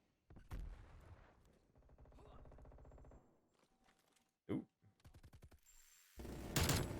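Minigun spinning up and firing in the video game Call of Duty Cold War, loud rapid mechanical bursts with whirring between them, ending in a heavy blast.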